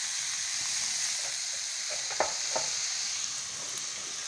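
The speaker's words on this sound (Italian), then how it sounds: "Questi sono i funghi porcini. Li facciamo rosolare" Porcini mushrooms browning in a pan with a steady close sizzle, a few soft stirring clicks and scrapes near the middle, no talk.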